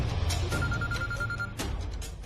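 A telephone rings in a Bhojpuri TV serial scene, its bell trilling steadily at moderate loudness over a hum of background sound, with no speech.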